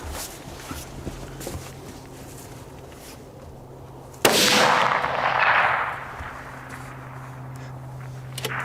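A rifle shot rings out toward a steel plate target at 1000 yards, with one sharp loud crack followed by a rolling echo lasting about two seconds, set against quiet outdoor background with a few faint earlier knocks.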